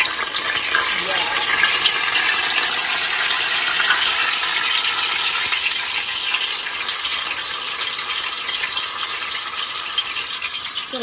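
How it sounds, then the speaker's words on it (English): Peppers frying in very hot oil, a loud, dense, continuous sizzle and crackle that holds steady the whole time with no pauses. "you will know that the oil is very, very hot when these peppers stop frying like that"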